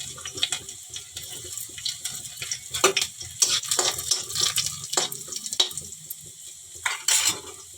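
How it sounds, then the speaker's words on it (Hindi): Chillies hitting hot oil in a pan hiss and sizzle steadily, with scraping stirs and sharp crackling bursts coming and going close by, and no talking over it. "तेल है मस्त से गरम हो गए तो मैं डाल देता हूँ मिर्चा"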